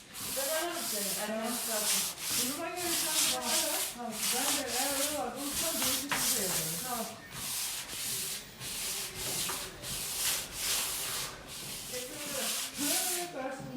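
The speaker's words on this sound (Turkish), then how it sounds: "Şöyle zımparayla eskitme yapıyorum." Steady back-and-forth sandpaper strokes rasp across a wooden surface to distress it, in a quick, even rhythm, with a melodic backing track running underneath.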